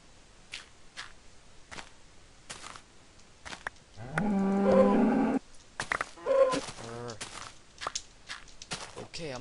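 A cow moos once, a long, loud low call in a Minecraft-style survival game, set among footstep clicks and block sounds, with brief talk around it.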